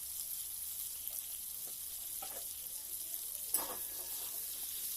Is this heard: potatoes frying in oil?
yes